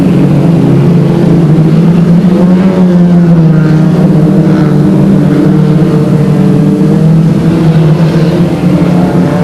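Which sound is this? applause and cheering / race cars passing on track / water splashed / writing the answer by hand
race cars passing on track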